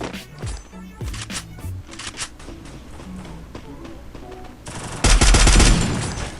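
Bursts of rapid submachine gun fire in Free Fire, loud and close, with heavy sustained shooting near the end over game music.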